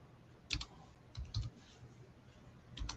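A few scattered keystrokes on a computer keyboard, quiet clicks in small bursts, two or three taps together with short pauses between, close and faint with no speech.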